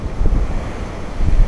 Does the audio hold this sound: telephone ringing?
no